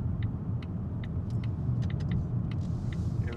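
A 2019 Volvo XC60 2.0 D5 PowerPulse diesel with automatic gearbox and AWD pulls away, giving a steady low engine rumble and road noise from inside the cabin, with faint clicks above and no talking.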